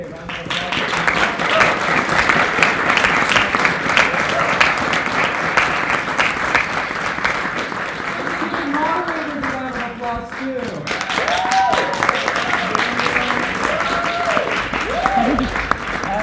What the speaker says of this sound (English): let's give all of our wonderful candidates here a round of applause